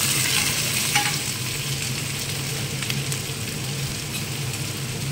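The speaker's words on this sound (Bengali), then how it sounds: "লঙ্কা কেটে দিয়ে দিলাম, পেঁয়াজটা দিয়ে দিলাম, আলুটাও দিয়ে দিলাম।" Chopped chilli, onion and potato sizzle loudly in hot oil for a tangra fish masala curry, a steady dense frying hiss with stirring scrapes throughout and no talk.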